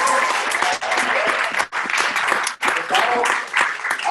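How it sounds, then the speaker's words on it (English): An audience at a distributor training event bursts into dense, loud applause that keeps going with a few short dips. "So let's clap it up for Tero."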